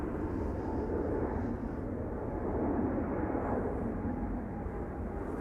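A KLM Boeing 777-300 on flight 877 to Mumbai takes off from Amsterdam Schiphol Airport, its engines giving a steady, broad jet roar heard from a distance, with no talking.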